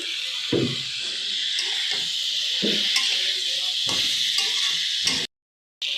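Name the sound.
chicken stirred and frying in oil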